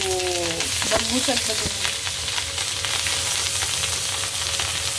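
Fish (bagga) frying in hot oil, a loud, steady close-up sizzle that fills the whole stretch, with a brief voice speaking early on over the crackle.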